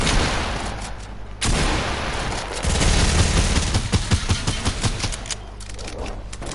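Rapid bursts of gunfire rattle through an arena shooter match, dense overlapping shots cracking in quick succession against steady background game noise, loud and close throughout.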